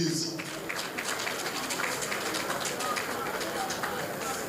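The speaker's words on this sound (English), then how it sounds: "Shall we all clap for him, please?" An audience at a national summit of opposition political leaders applauds a presenter, a steady, even wash of clapping that holds for the whole stretch, with a few voices faintly mixed in underneath.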